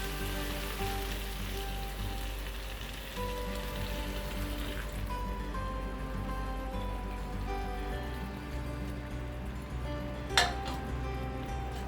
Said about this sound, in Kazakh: сол сорпаны құятын боламын